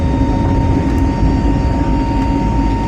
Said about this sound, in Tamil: டெல்லியிலேருந்து ஃப்ளைட் டேக் ஆஃப் ஆயிடுச்சு ஃப்ரெண்ட்ஸ்